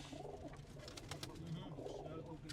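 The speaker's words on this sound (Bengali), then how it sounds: "এটা হলো জনসন কবুতর" Johnson pigeons coo in a loft, a low repeated rolling coo carrying steadily through the clip alongside faint chirps from other birds.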